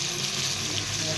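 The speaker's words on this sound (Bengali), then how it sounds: "এরপর আমি আদা দিয়ে দিলাম। দেখো আদাটা দেওয়ার পর আদাটা একটুখানি 30 সেকেন্ড মতো নেড়ে ভাজা ভাজা করে" Chopped ginger and spices frying in a pot of oil while being stirred, cooking bhog for a Saraswati puja, giving a steady, close sizzling hiss with no talk.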